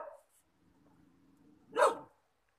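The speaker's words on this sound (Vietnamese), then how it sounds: "mà chó nó ghê lắm. Thăm vườn nó cứ sủa thôi." A dog in a lychee orchard gives one sharp, fairly loud bark after a brief whimper and a quiet low growl, the rest nearly silent.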